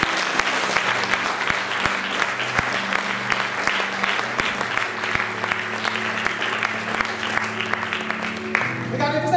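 A church congregation claps steadily through a charismatic French-language service, sharp hand strikes in a dense rhythmic pattern over a held musical drone, loud and close until it breaks off near the end.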